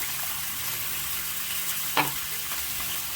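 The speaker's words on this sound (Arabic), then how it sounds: "غادي نديرو تشحر شويه، وعاد غادي نزيد عليهم الخل" A sauce for fish sizzles steadily in a pan as vinegar is added, a constant hissing fry with one brief clink or splash near the end.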